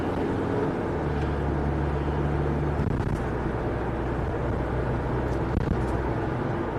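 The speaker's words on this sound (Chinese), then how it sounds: "踩油门急加速，" A Ford V363-chassis motorhome accelerating hard, a steady loud engine drone and road roar from inside the cabin, the note rising slightly as it pulls, with no talk over it.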